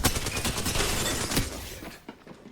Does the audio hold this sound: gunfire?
yes